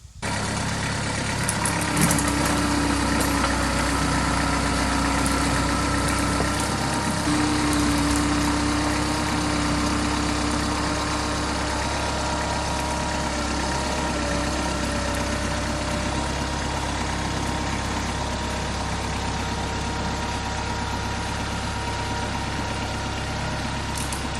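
A Belarus 3045 tractor engine idles steadily and loudly for the whole stretch, a constant low rumble with a faint whine, no voices.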